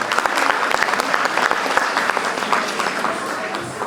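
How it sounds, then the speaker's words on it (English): An audience at the Kalaanjali fundraiser performance for Autism Nova Scotia gives a round of steady, dense applause throughout the short stretch. "Please give them another round of applause."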